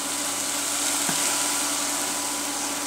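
Tomatoes and slit green chillies sautéing with salt in a pan, a dense, steady hiss and sizzle holding at an even level for the whole stretch, with one faint clink, no voices.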